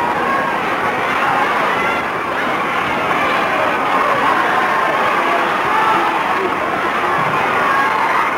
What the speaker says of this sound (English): The crowd is getting excited with one leg coming off the ring.